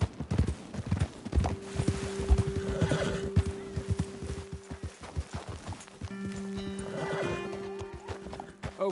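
Horses in a video game neigh and whinny loudly over steady hoof clip-clop, with two drawn-out calls and thudding hooves moving at pace throughout.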